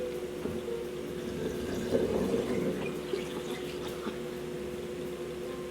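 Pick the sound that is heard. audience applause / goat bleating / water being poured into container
water being poured into container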